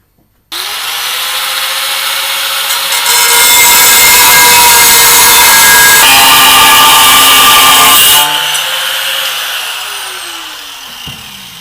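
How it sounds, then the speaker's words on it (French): An angle grinder spins up and cuts into steel for a flat-ground knife blade, a loud close harsh whine that gets rougher and louder under load, then eases as the disc runs free and winds down. "je vais découper à la disqueuse"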